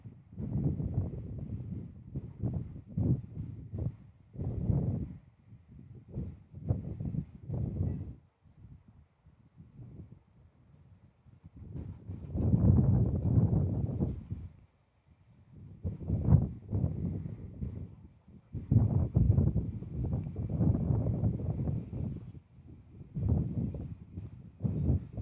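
Strong wind gusts buffet the microphone outdoors at Kansas City International Airport, coming in irregular rumbling bursts separated by brief lulls.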